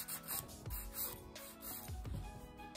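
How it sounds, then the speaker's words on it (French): A nail file rasps carefully around the corners of a fingernail while semi-permanent polish is removed, giving slow, soft rubbing strokes with a couple of distinct swipes, close up and without speech. "on va doucement et on arrive très, très bien avec la lime"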